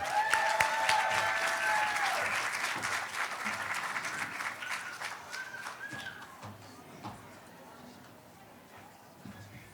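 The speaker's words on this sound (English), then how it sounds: "let's give a round of applause for Spilled Milk" An audience applauds at a live motherhood storytelling event, dense clapping that starts loud and slowly fades over about ten seconds, with a few cheers or whistles near the start and voices talking underneath.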